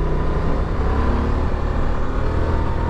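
A Honda Transalp 750 (XL750) motorcycle engine drones loud and steady while riding at speed, a dense low rumble mixed with wind noise. No one talks over it.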